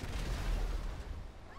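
Rhino tank cannon fire in GTA V Online, a deep rumbling low-end boom that rolls on through the short moment with no talk.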